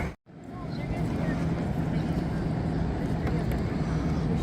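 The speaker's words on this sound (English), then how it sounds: "Water taxis, they're taking people out to the yacht club." Water taxis run along the Toronto Harbourfront near the ferry dock, a steady low engine drone and broad waterfront wash that carries on evenly after a brief gap at the start.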